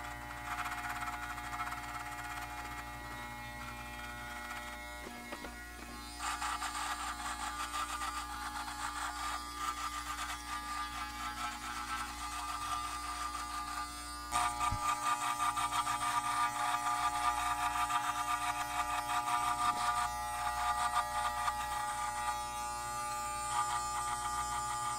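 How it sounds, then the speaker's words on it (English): Electric T-outliner hair trimmer buzzing steadily while cutting hair, a close, fairly quiet continuous whine that shifts in intensity as the blades move through the hair, with no talking. "So now I'm going to actually go in with my T-outliners just to make this a little lower"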